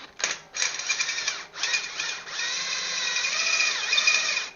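A power drill spinning a worn, dull bit into material, whining in short bursts and then a longer steady run, close and fairly quiet, with no talking.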